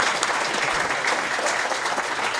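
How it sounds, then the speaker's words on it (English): An audience claps for a panel at a business panel discussion on opportunity zones, a short burst of dense, even applause at full strength throughout. "ask you guys to join me in giving a round of applause for this amazing panel that we have here"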